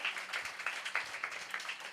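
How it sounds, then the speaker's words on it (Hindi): Applause for Praveen sir at a gathering on a girls' cricket tour to Mandvi, a steady patter of many hands clapping at moderate distance, fairly quiet and even, with no clear talk over it. "एक बार प्रवीण सर के लिए जोरदार तालियां बजाएंगे।"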